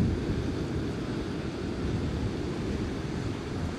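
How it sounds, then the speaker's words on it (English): Steady ocean surf washes in without a break, a broad, even roar of waves with some wind noise, continuous and moderately loud with no voices. "the sounds of the ocean."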